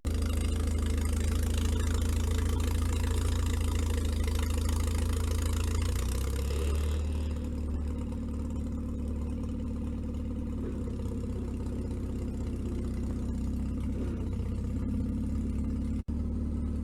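A vehicle engine labors hard pulling a tire drag up a steep, snowy hill, a loud sustained rumbling drone that drops to a lower steady idle-like hum partway through.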